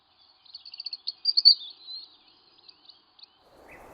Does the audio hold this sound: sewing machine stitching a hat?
no